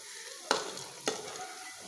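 Hilsa fish pieces frying in oil, a steady soft sizzle with two sharp spatter pops about half a second apart.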